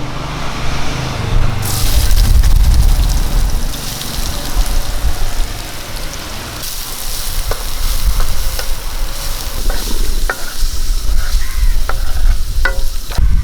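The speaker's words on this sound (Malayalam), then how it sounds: "നമുക്കൊരു അര ടീസ്പൂൺ കടുക് ഇട്ട് കൊടുക്കാം രണ്ട് വറ്റൽമുളക് ഇട്ട് കൊടുക്കാം ഒരു സവാള എരിഞ്ഞ ഇട്ട് കൊടുക്കാം" Mustard seeds, two dried red chillies and an onion fry in oil for a chickpea thoran, a loud continuous sizzle with popping crackles and spoon stirring and scraping throughout, close and unbroken, without speech.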